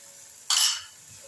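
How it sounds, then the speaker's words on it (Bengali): Mango pulp squeezed from the stones being stirred in a pan for homemade mango jelly, heard as one short scraping swirl of a spoon against the pan, close and fairly loud. "কাইটা একটু নাড়াচাড়া করে নিচ্ছি"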